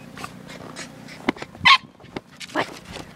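A puppy in the snow gives a few brief whimpers and one sharp yip amid quiet rustling and scattered soft noises, close by and fairly faint apart from the single louder yelp.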